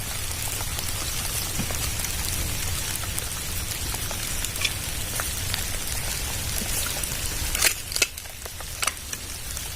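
Steady rain pattering on surfaces outdoors at night, a continuous dense hiss with scattered sharper drops and a few louder taps near the end, with no talk over it.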